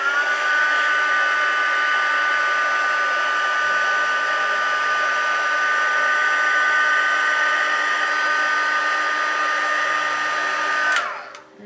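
A heat tool blows hot air to set paint on a doll's leg, a steady, loud whirring drone that holds unchanged for about eleven seconds before winding down sharply as it switches off, with no talk.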